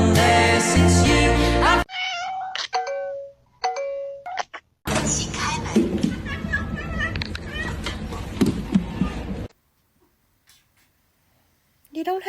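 A cat meows in several short, close bursts mixed with doorbell-like chimes and music, with people talking in between and stretches of near silence.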